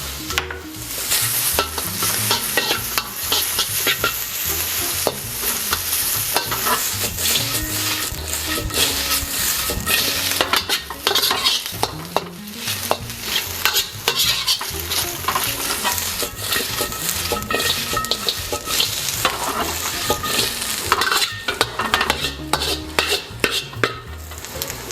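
Chinese barbecue pork is stir-fried in a hot wok for Singapore noodles, with a constant loud sizzle and a rapid, continuous clatter of a utensil scraping and tossing the ingredients.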